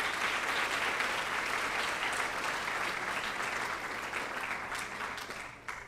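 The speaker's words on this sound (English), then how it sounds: "So if we could give a round of applause for our PTSA." Dense, steady applause from an audience at a school PTSA academic awards ceremony, continuous and full before tapering slightly at the end, no talk.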